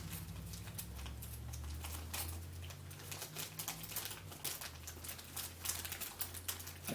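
Allen key tightening the last screws during assembly of an Ender 3 V3 SE 3D printer, giving a steady run of small metallic clicks and scrapes over a low background hum, with no talking.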